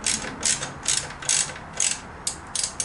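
A hand ratchet snugs hand-tightened bolts on a 21-inch wrapped front wheel, giving about seven short bursts of rapid clicking in an even rhythm, close and clear with no talk.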